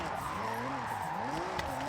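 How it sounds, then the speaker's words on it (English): A car drifting in Forza Horizon, with steady tire squeal and engine sound rising and falling in pitch as the car slides through a turn. The sound is fairly quiet and continuous. "We are still drifting, and then we go like this."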